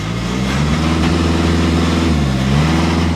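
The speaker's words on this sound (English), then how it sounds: "Nicole, start it up, please. Let's see what it sounds like. It sounds like a diesel." A 2015 Volkswagen Golf TDI diesel engine idles with a steady, loud, close mechanical drone and a slight rise and dip in pitch partway through.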